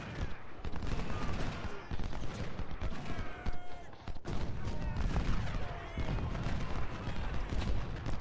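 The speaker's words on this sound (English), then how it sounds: "so the snipers are already firing at Carroll" Dense, continuous musket and rifle fire from snipers in the Civil War strategy game Ultimate General: Civil War, heavy crackling volleys with rumbling bursts and faint voices mixed in.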